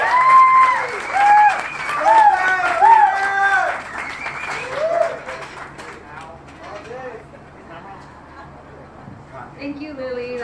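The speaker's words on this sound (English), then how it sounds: "I could keep all this applause rolling." An audience at a bike storytelling night in San Antonio applauds. Loud clapping dominates the first half under a voice, then fades to scattered claps while talking continues.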